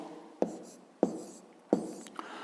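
Pen marks made while writing maths on paper for a fifth-grade lesson, three distinct scratchy taps at roughly even intervals with soft scraping between, close and quiet, with no talk.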